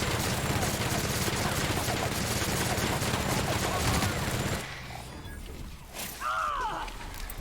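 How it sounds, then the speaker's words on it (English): A big gun in The Outer Worlds lets loose a sustained, dense burst of heavy gunfire for about four and a half seconds, then it stops abruptly and a few fainter impacts and a brief whine trail off. "It's time to pull out the big gun."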